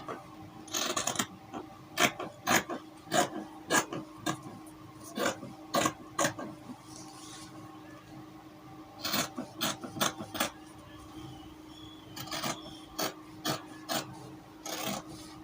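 Scissors cut fabric for a princess bust pattern. Repeated crisp rasping snips come in quick bursts, about a dozen in all, with a pause in the middle. They sound close and clear, with no talking over them.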